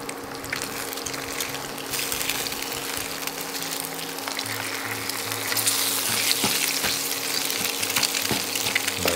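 Egg for fried rice sizzles and fries in a pan, a steady close frying crackle that grows louder toward the end, with occasional utensil scrapes and no talk.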